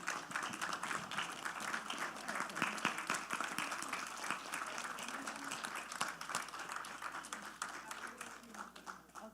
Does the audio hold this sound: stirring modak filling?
no